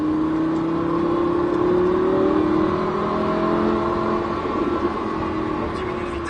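Lamborghini Huracan engine accelerating on the Mettet race circuit, a loud, steady high-revving drone with rising whine, continuous and close from cockpit position throughout.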